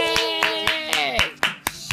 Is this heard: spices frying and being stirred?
no